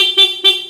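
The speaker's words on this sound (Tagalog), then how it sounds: "Ito yung tunog ng kanyang busina." A Yamaha XSR 155 motorcycle's horn, in Phantom Blue, gives two short, loud honks in quick succession, each a bright buzzing tone, with nothing else around them.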